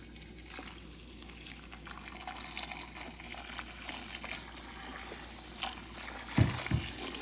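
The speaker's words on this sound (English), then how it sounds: "I'm going to cover them with water, cover it with water" Water is poured into a stainless steel vat of brazilwood on a stove for dyeing, a faint trickling and splashing with a few louder knocks near the end.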